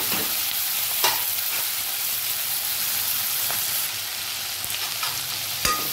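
Vegetables for homemade paneer chilli are stir-fried over high heat, giving a loud, continuous sizzle with intermittent scraping and tossing clicks against the pan, no voices.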